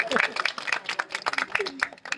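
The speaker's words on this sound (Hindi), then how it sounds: "एक बार मेरे लिए ताली बजाओ।" An audience clapping at a business motivational gathering, a run of sharp, uneven claps in quick bursts, fairly close and moderately loud, with no voices heard over it.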